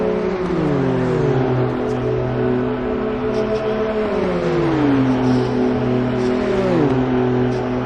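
BMW M2 CS race cars accelerating on a track, engines droning steadily with rising pitch sweeps as they climb through the gears, loud and continuous throughout, with no speech.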